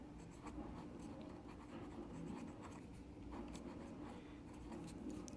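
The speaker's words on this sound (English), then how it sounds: "I'm going to write it here." Faint scratchy writing strokes as an example is written on a board, with repeated short scribbles over a quiet, steady room background and no talk.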